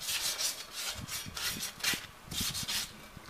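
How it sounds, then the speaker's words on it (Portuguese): A bike rim is wet sanded by hand with 320 grit sandpaper: rhythmic back-and-forth rubbing strokes, close and moderately loud, with a gritty scratching texture and no talking. "A lixa tem que ser com água."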